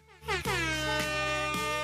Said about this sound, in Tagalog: Horn pala dapat yon. Horn!